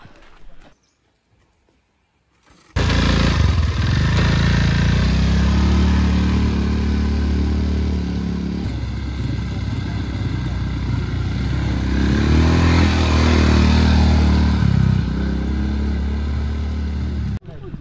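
An ATV bike engine revs and runs steadily while riding, close and loud, with a rough mechanical drone throughout after a brief quiet start.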